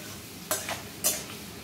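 Chopped ginger fries in a pan over lowered heat, a low steady sizzle broken by two quick scraping stirs from a utensil, close by.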